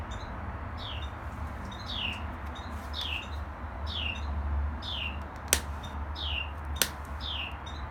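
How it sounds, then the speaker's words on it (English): Outdoors in Georgia, a bird near its nest repeats short chirps about every half second, moderately close over steady low background noise, with a couple of sharp clicks near the end. "Boy, those birds are getting it. Must have a nest around me or something."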